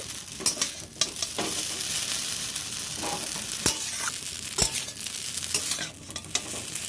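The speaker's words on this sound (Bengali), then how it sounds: "এবার আমি নেড়ে ছেড়ে খুব সুন্দর করে সবজির সাথে মিশিয়ে নেব আর ভেজেও নেব চাউমিনটাকে" Veg chowmein without egg is stirred and fried with mixed vegetables in a hot pan, giving a steady sizzle broken by scraping and clattering stirs, close up.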